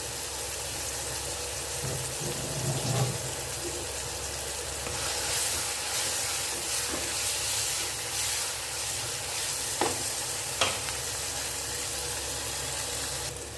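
Onions sauteing in a pan for a Tamil raw mango kootu, with curry leaves added, giving a steady loud sizzle and hiss throughout and a few brief spattering crackles.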